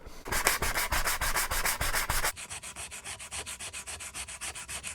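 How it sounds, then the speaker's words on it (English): Hand sanding of carved wooden cloud shapes with sandpaper to remove tool marks: rapid rhythmic back-and-forth scratching strokes, loud and close at first, then a lighter, quicker stroking pattern, with no talk. "what I'm going to do now is go over it with some sandpaper, get some of the tool marks off it"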